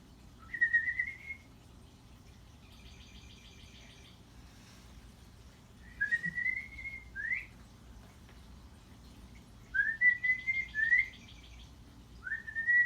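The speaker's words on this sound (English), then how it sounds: "That bird song." Birds sing in short, bright whistled phrases that come in three separate bursts with quiet gaps between, clear against a low, steady background rumble.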